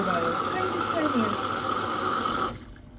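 Fabric softener is poured into the dispenser of a washing machine, a steady liquid stream that runs for about two and a half seconds and then stops abruptly.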